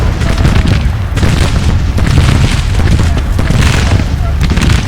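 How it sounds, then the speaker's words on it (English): Continuous loud booming from cannon artillery fire in the Civil War strategy game Grand Tactician at Winchester, dense overlapping blasts and rumble with a voice speaking over it. "Every cannon, counter battery fire,"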